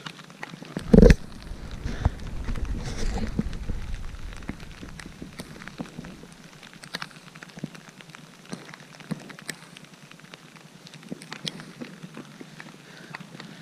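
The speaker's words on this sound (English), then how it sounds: "So, raining again." Rain falls outdoors at the top of Zeacliff Trail in the White Mountains of New Hampshire, a soft steady patter with scattered close drops and a sharp knock early on, no talking.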